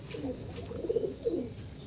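Imported Oman bloodline teddy pigeons, a pure teddy pair, give low throaty coos in a couple of rolling bursts, close and moderately loud over a soft background hum.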